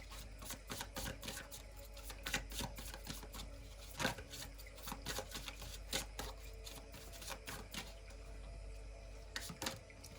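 Tarot cards are shuffled close by in a quiet room, a run of rapid papery riffles and soft slaps in uneven bursts, faint and without talk.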